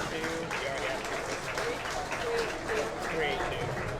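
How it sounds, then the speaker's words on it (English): Steady applause from a crowd at a county fair livestock sale in Vinton County, Ohio, fills the space, a continuous wash of clapping with some voices mixed in. "Give him a round of applause."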